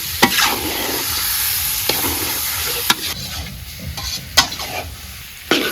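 Beef for Bogura-style potato ghati frying in a pot with a steady sizzle, broken by several sharp scrapes and clanks of stirring spaced across the clip.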